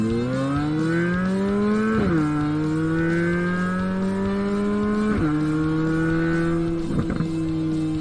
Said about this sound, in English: The exhaust has been carefully tuned to create a distinct,